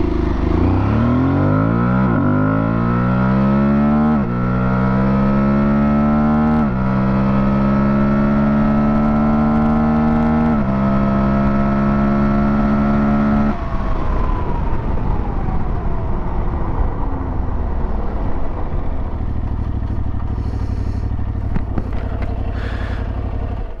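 Aprilia Tuareg 660 motorcycle on knobby tires accelerating hard from a standstill to 100 km/h, the engine climbing through several rising gear pulls with short shift breaks, then easing off into a falling drone and wind noise, loud and close.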